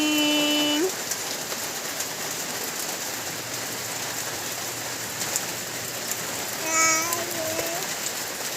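Rain falling on a surface on a morning in the Philippines, a steady faint patter throughout, with brief tonal sounds near the start and end and a quiet voice in the background.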